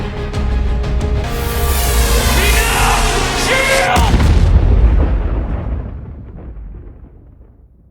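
A huge explosion in an Ultraman film, a loud, deep roaring blast that surges and swells before slowly rumbling away into silence.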